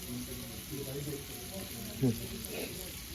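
Prawns and chicken frying together in a pan, making a soft, steady sizzle under a voice that talks intermittently.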